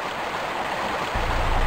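A rushing river in the video game Tomb Raider Remastered, set in Vilcabamba, gives off a steady broadband roar of water that grows slightly louder near the end, with no voices.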